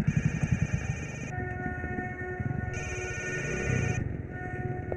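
A telephone rings in an Indian action film scene, the electronic ring sounding in two loud bursts separated by short pauses, with low background rumble and no talk over it.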